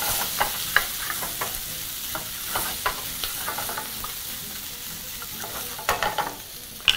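Ground pork being mixed by hand with ingredients in a bowl, with a steady moist stirring and squishing texture and scattered soft clicks, close and alone without talk.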